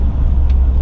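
Low, steady engine rumble from a GMC Sierra LML diesel pickup with over 200,000 miles, running warm, a continuous dense drone close by with no speech over it.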